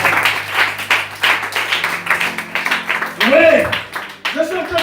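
A church congregation claps in rhythmic, sustained applause during an Easter sermon, mixed with loud voices over the clapping.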